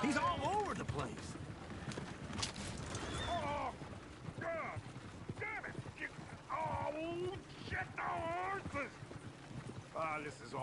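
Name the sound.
horse hooves in video game Red Dead Redemption 2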